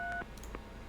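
Telephone keypad tones from dialing a number in the Gabriel Knight: Sins of the Fathers video game: a few short, clear electronic beeps in quick succession, then quiet.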